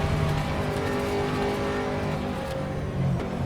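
Race car in sim racing on the Spa circuit, loud engine drone and whine as it draws alongside and passes close by. The pitch shifts as it goes, with no talk.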